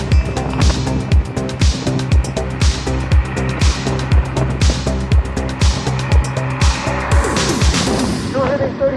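A Kaabo Mantis electric scooter ridden at full throttle across the Golden Gate Park Polo Fields, with loud continuous wind buffeting and rhythmic thumping over a steady motor drone close to the rider.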